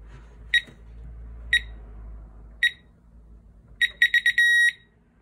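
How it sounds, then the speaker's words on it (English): Keypad beeps from a Visonic alarm panel as a 4-digit master code is entered: three spaced single beeps, then a quick cluster of beeps ending in a longer confirmation tone, crisp and close over a faint low hum; no talk. "Type in your 4-digit master code."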